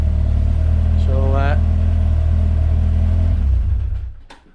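A Peugeot 205 GTi Mi16 engine idles close up with a steady rumble, then gets a quick throttle blip whose revs climb and fall before the engine cuts off and goes quiet.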